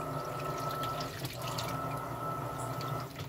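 An Electrolux LPR17 top-loading washing machine agitating water, a steady churning slosh with continuous motor hum, loud and close throughout with no pauses.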